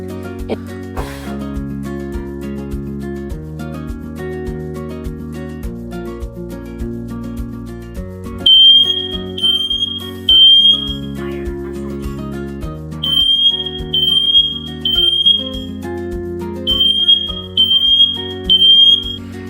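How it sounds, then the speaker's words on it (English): Siterwell GS886-H02 smoke and carbon monoxide detector sounding during an alarm test, loud shrill electronic beeps in repeated groups of three with short pauses, over a low tonal background hum. "When you press here, you're gonna activate your monoxide carbon alarm."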